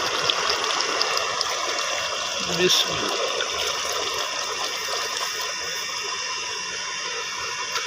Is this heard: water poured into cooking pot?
yes